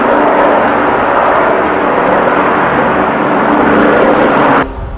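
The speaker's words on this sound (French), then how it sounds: "l'avion va faire un nouveau passage. C'est un Canadair qui va déverser de l'eau" A Canadair water bomber aircraft makes a low pass, its loud, broadband engine roar holding steady and close for several seconds before cutting off abruptly near the end, with no talk.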